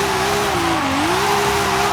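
A tuned BMW M3 engine in Forza Horizon 5 holds a loud, steady rev, its pitch dipping briefly in the middle and then climbing back, a continuous near drone with no talking.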